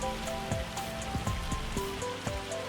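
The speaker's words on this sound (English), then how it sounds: "I'm so happy it's just heavy rain and not hail like the last time." Heavy rain falls in Farming Simulator 25 on a cold April night in the German countryside, a steady dense patter drumming on surfaces, with faint game music tones underneath.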